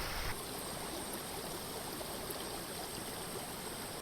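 A clear hill stream runs near a waterfall on a Koonichi hills trek, a steady, faint rushing and trickling wash heard alone, continuous from start to finish.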